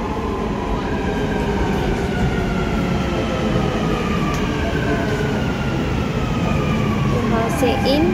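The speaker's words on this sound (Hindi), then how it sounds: "आ गई हमारी मेट्रो।" A Dubai metro train arriving at a station: a loud, continuous rumble with rising and falling electric motor whine and brake tones, heard close by throughout, with people talking over it.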